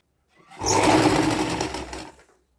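A sewing machine stitches the inside seam of a small girl's frock in one steady, close whirring run of about a second and a half that starts and stops cleanly.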